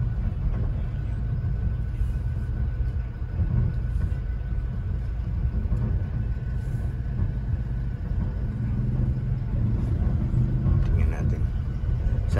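Busy road traffic with tricycles, a continuous low engine rumble and passing motor noise heard from inside a vehicle, steady and fairly loud throughout.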